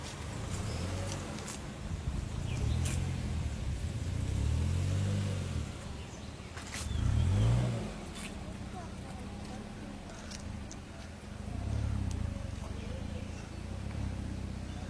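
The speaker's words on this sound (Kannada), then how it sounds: "ಗಾಡಿ ಪಾರ್ಕಿಂಗ್ ಮಾಡ್ತಾ ಇದ್ದಾರೆ." Car being parked at a Coorg wilderness resort, its engine rising and easing in slow, near swells of low rumble while people talk nearby.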